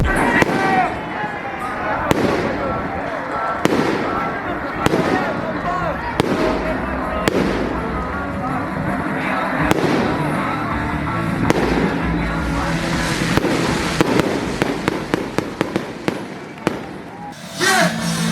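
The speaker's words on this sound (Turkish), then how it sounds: "Arkada da havaya fişek patlatıyorlar." Fireworks set off outdoors at night during a riverside party in Kyiv, a series of sharp bangs and crackles that grows denser toward the end, over a constant din of voices and background noise.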